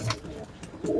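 A pigeon perched on a rooftop loft gives a brief low coo near the end of a short, quiet stretch of outdoor air.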